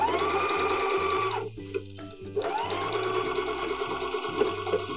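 Sewing machine stitching the seam of a beanie hat, a close, steady whirring hum that pauses briefly for a back stitch, then starts up again and runs on.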